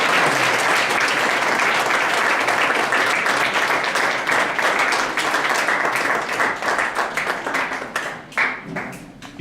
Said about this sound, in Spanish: Pues dar una ofrenda de palmas y ponte de pie.